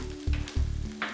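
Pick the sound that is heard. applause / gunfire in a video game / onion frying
onion frying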